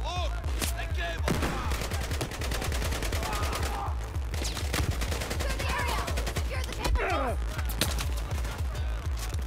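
Rapid, sustained light machine gun fire in the video game Battlefield 4, dense rattling bursts close up with scattered game effects, running continuously under a player talking.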